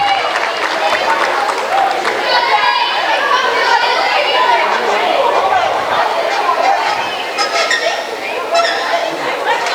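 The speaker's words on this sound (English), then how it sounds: "You can see everybody cheering on Christina DeGregory for the last part of this race" Spectators at a high school swim meet cheer from the stands as a swimmer finishes the last part of her race, a loud and steady wash of crowd voices and shouts that goes on for about ten seconds.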